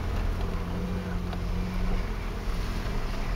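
A manual-transmission car is driven by a learner accelerating gently into second gear, giving a low, steady engine hum with wind noise, moderately quiet and continuous.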